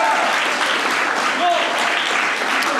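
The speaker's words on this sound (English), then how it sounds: "can we get a round of applause for YAF getting over 1 billion views on YouTube?" An audience applauds at a live high school event, a dense, even clapping that stays loud for a few seconds with no speech over it.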